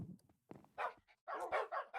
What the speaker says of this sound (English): And then I started breeding my dogs